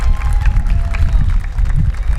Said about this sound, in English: How about a big round of applause for all our Shad Derby Queen,